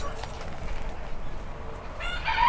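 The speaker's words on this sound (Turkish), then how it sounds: "Bunlar da Silver Beyondet anaçlarımız arkadaşlar. 6 tavuk, bir horoz." Silver Wyandotte hens and a rooster, six hens and one cock in a backyard coop, cluck and murmur softly over a noisy outdoor background, with a louder call rising near the end.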